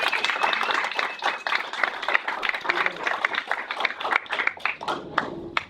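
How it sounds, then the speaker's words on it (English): An audience at an evening book event gives a round of applause, with individual hand claps clearly audible in a moderately loud, uneven patter that continues steadily throughout. "Round of applause."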